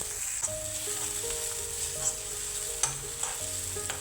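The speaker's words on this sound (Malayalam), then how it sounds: "ഇനി ഇവ നന്നായി ഒന്നുകൂടി മിക്സ് ചെയ്തെടുക്കുക" Potato mezhukkupuratti, a Kerala-style potato stir-fry with pepper powder, is stirred in a sizzling pan: steady frying hiss under close, intermittent scraping and clinks of the spoon against the pan.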